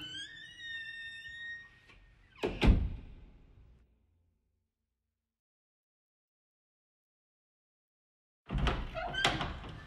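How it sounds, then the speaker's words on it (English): Soft thumps and a heavier thud from a child jumping on a bed, then a long quiet stretch before another burst of bumping near the end. "Did I just hear you jumping up and down on the bed?"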